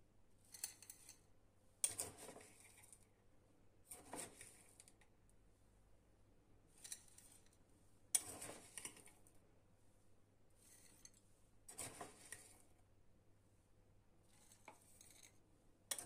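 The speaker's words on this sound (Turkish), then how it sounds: "Her birine birer kaşık kaya tuzu ekliyorum." Rock salt spooned into glass pickle jars, a series of about eight brief gritty rattles and clinks spaced every couple of seconds, faint and close in a quiet room.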